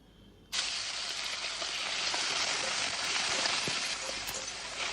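Pineapple pieces dropped into a spoonful of hot ghee in a kadhai burst into a loud, sudden sizzle after a brief quiet start. The frying hiss then holds steady and close.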